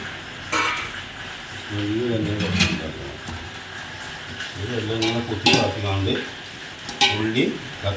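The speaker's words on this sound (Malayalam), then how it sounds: "ഉള്ളി തക്കാളി നമ്മൾ വേവിക്കുക." Onion and tomato frying in a pan, a steady sizzle running under the whole stretch with occasional stirring scrapes, while people talk over it close by.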